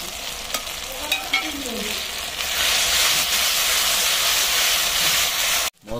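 Ginger and garlic, added with tomatoes, sizzle in hot oil in a pan, a steady broadband hiss that swells louder midway with occasional stirring scrapes, then cuts off briefly near the end.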